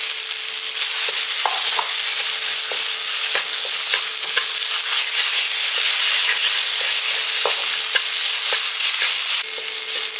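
Grated coconut stirred into urad dal frying in a pan: a dense, loud, steady sizzle close up, broken by light scraping and tapping strokes from the stirring, no voices.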